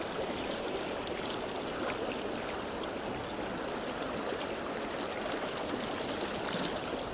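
A Welsh stream runs steadily in the rain, a broad continuous rush of water that stays even and close throughout with no voices.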